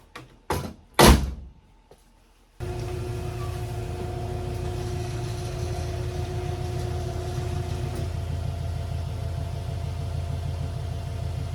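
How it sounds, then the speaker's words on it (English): A residential garage door is heard opening: a few loud thunks and clanks come first, followed by a steady mechanical drone and hum that continues at an even level to the end. "So we're going to open up the garage."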